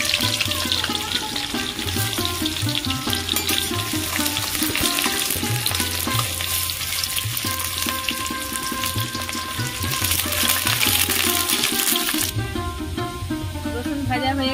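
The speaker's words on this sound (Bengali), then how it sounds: "তেল গরম হয়ে গেছে, রসুন কুচি দিয়ে দেবো।" Chopped garlic frying in hot oil in a wok on a stove, a loud continuous sizzle with intermittent stirring scrapes throughout, no voices.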